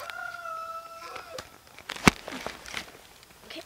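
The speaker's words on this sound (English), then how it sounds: "And that's my chickens." Chickens and a rooster clucking and squawking nearby, with a brief sharp call and some rustling and footsteps in the background.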